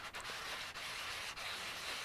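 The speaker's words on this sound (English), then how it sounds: "just back and forth sanding away. You don't have to do wet sanding, but it's much nicer for polymer clay" A polymer clay bead is wet-sanded under water with a small piece of sandpaper, giving a steady, soft, continuous rubbing hiss that barely breaks, quiet and close.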